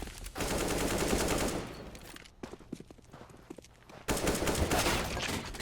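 Rapid bursts of rifle fire in the game CS:GO, loud dense volleys at the start, a quieter stretch of scattered shots and footsteps, then another heavy sustained burst.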